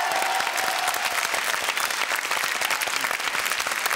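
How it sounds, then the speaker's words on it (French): Studio audience applause during a French TV variety show, a sustained and lively wash of many hands clapping at even intensity, recorded close and filling the short span without speech. "vous méritez des applaudissements."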